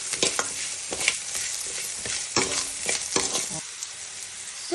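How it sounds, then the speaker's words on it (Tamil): Salt gets stirred into goat blood frying in a pan, with a steady sizzle under repeated scraping stirs of a spoon against the pan, close and fairly loud, without any talking. "அதுக்கப்புறம் அந்த சேர்த்த உப்பை நல்லா கிண்டி விட்டுக்கோங்க"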